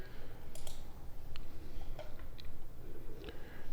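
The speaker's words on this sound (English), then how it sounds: "So we'll type it in at the top here." Scattered light key taps on a computer keyboard as a stock ticker is typed in, a few quick uneven clicks over a low background hum.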